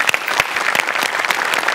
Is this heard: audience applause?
yes